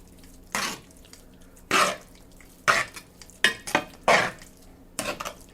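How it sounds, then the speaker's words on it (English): Red pepper flakes being stirred into sausage gravy in a pan, with six separate bursts of spoon scraping and clinking against the pan at irregular intervals over a low, quiet background. "stir that in, get it well incorporated"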